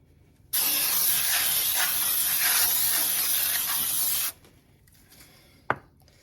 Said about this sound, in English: We are going to spray our pan with some baking spray.